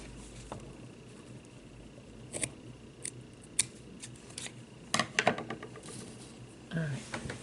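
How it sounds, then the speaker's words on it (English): Scissors snip thread off a sparkly shabby chic cross ornament, several close, crisp cuts and rustles scattered over a quiet room with no talk. "then turn your cross over and cut that piece off"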